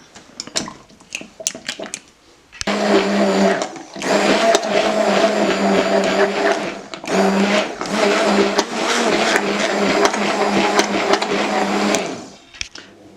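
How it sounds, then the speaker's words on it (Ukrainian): A blender whirs loudly and steadily for about ten seconds after a few short clicks, mixing chocolate ganache with Baileys liqueur, then stops abruptly. "Та гарно все пробиваю блендером."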